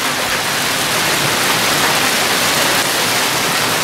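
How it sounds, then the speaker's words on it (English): Hail pelting a home patio the day after tornadoes, a dense, steady broadband hiss of countless pellets striking hard surfaces, loud and continuous with no talking. "Hail, look at all this hail."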